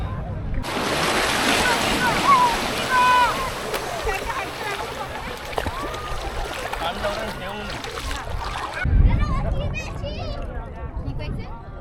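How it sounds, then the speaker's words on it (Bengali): Gentle sea water washes at Bakkhali beach under calm, low-wave conditions, a soft continuous surf and splash heard close by, with people talking and some wind buffeting over it. "এই হলো বিচের জল"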